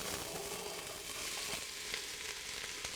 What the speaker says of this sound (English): We're going to start to saute them down.